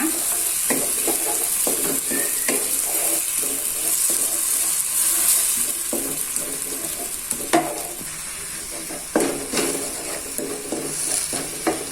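Lemongrass and lime leaves sizzle and stir-fry in a hot pan while preparing a chicken dish, with steady frying hiss and repeated scraping stirs of a utensil throughout, no talking.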